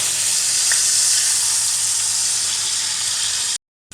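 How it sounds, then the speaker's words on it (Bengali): Cubes of paneer frying lightly in a pan give a steady, close, loud sizzle that runs without a break, then cuts off abruptly near the end. "আমি পনিরটা হালকা করে ভেজে নেব"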